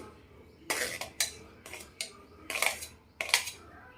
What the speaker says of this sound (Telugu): వేయించి పెట్టుకున్నవన్నీ 1 బై 1 మిక్సీలో జార్లో ఇలా వేసుకోవాలి